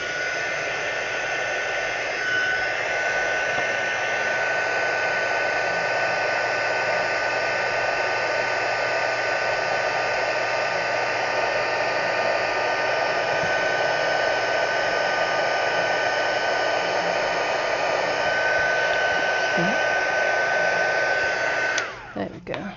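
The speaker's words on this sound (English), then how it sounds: "So I'm just going to heat set this, so it's going to get loud for just a second." A heat tool sets embossing powder on a handmade card, giving a loud, steady blowing roar that holds for about twenty seconds before cutting off abruptly.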